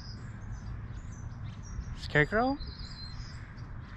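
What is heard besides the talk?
birds singing outdoors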